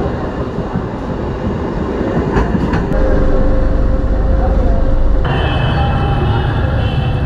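A local train rumbles steadily along the line near Serampore in Hooghly district, a loud continuous roar of wheels and carriages with brief rattles and a shift in tone partway through, with no voices.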